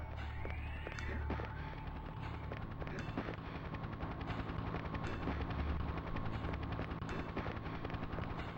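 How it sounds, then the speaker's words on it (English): A helicopter in the N64 game Shadow Man, a continuous rapid rotor thumping with sharp gunfire-like cracks scattered throughout, loud and steady from start to finish. "Is the helicopter back again?"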